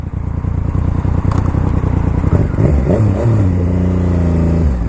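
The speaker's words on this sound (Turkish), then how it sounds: "sese alışamadım ya. Yani 3 silindirleden böyle bir ses gelemez." A three-cylinder car engine runs close by with a loud, steady idle that rises into a rougher, uneven drone toward the end.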